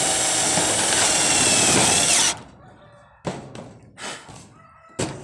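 A power drill whines loudly and continuously as it drives fasteners into roof fascia trim, then cuts off, followed by several sharp knocks and thuds as the trim is handled and tapped into place.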